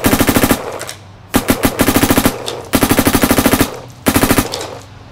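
A Virtue Ace Luxe X paintball marker fires in burst mode outdoors, loud rapid strings of shots in four separate bursts with brief pauses between them.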